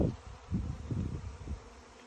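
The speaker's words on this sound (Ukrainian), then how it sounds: "Прям дивіться, який він велетенський просто рій." A large swarm of honey bees in flight in August makes a steady, low droning hum that swells and fades slightly, with no voices over it.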